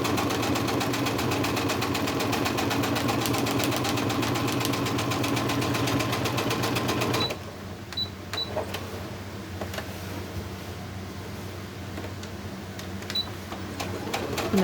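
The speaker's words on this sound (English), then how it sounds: "we flip it over, basting stitch, and run around and just inside that line." Sewing machine running a basting stitch around a crazy crumb quilt block, a loud rapid steady whirr for about seven seconds that then stops, followed by quieter handling sounds and faint clicks.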